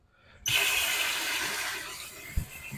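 Running water pours steadily over Fluval FX6 canister filter media as it is rinsed, a sudden loud gush that starts abruptly and continues as a bright hiss, with a brief knock near the end and no voices.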